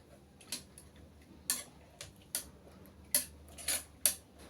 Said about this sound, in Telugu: ఈ మరి కంబితో ఉండేదైనా ఏదైనా తీసి ఉండలు లేకుండా బాగా కలుపుకోవాలండి